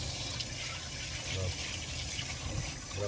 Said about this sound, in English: let me rinse hands